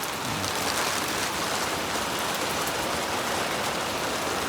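Heavy evening rain pours steadily, a dense continuous hiss of drops drumming on surfaces close by, loud and unbroken with no voices.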